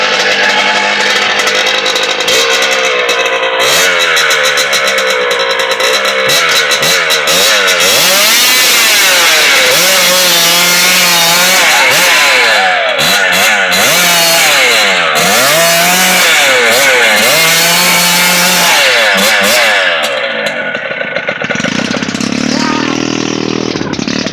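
A Pluton scooter or CZ 125 motorcycle engine runs loud and close in a forest, revving up and down repeatedly with rising and falling pitch throughout, while people shout over it.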